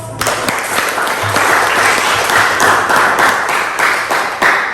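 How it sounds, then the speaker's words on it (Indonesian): Loud, dense applause from a group at the close of an online biology class session, steady clapping sustained throughout without a break. "Kita berikan untuk aplaus."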